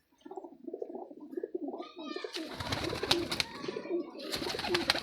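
Sialkoti pigeons cooing in a loft, soft repeated low coos near at hand, joined partway by rustling and wing flutters that come in bursts.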